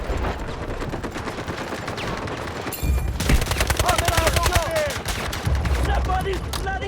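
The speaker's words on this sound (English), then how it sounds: "Somebody's bloody shooting me!" Rapid bursts of automatic gunfire fill a firefight in the Delta Force Mobile shooter game, dense clattering volleys with short pauses, loud and close, with voices calling out over the shooting.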